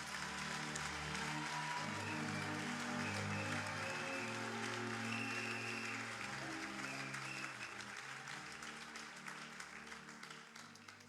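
A church congregation applauds the Lord in sustained, dense clapping over a low musical backing, holding strong before easing slightly toward the end.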